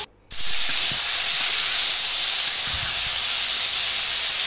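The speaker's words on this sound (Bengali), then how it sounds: "ভেন্ডিগুলো একটু ভাজি করে নেব। গরম লবণ হলুদ দিয়ে ভাজি করে নেব" Okra fries in hot oil in a pan with salt and turmeric, a loud, steady close sizzle that starts abruptly and holds without a break.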